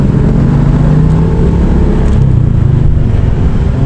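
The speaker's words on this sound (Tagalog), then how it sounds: "Traffic pa rin dito, maraming mga motor." Road traffic full of motorcycles on a bypass road, a steady loud drone of several engines at close range with shifting revs and no break, heard with no talking.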